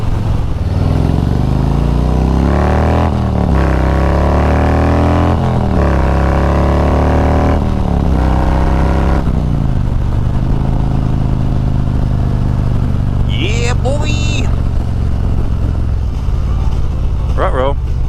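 Harley motorcycles riding in a group rumble close and loud, their engines rising and falling through gear changes, then settle into a steadier drone while people talk briefly near the end.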